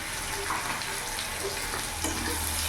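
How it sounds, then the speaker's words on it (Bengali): Ground spices, turmeric, cumin and coriander powder, fry in a pan over a medium gas flame for a young jackfruit curry, with a dense, steady sizzle and stirring close by. "গ্যাসের ফ্লেমটা আমি মিডিয়ামই রেখেছি, মিডিয়াম আঁচে মশলাটা ভালোভাবে কষিয়ে নেব"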